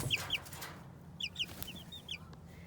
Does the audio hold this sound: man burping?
no